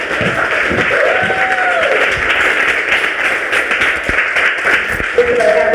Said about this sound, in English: Why don't you give her a round of applause?